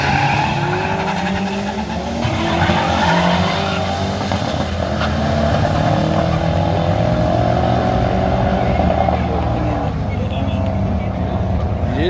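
A loud drag racing car accelerates hard at a Sorocaba drag strip, its engine note climbing steeply through the gears, with a roaring, sustained blast close by.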